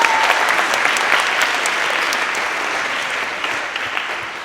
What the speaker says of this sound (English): they deserve, even on today for those of you that have taken the vow, your thunderous applause